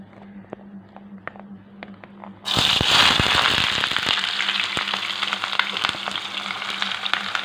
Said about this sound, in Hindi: अभी हम लोग इसमें प्याज डालेंगे।